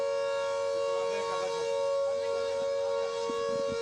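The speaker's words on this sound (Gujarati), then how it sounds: "હાલમાં સાયરન વાગી રહી છે" Civil defense air raid warning siren sounding in Chandigarh as a precautionary measure, a steady sustained wail with a strong tonal hum and faint distant background noise, no speech.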